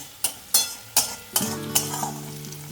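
Onions frying in a pan, stirred with a utensil in several sharp scrapes and clinks about every half second over a soft background sizzle, up close with no talking.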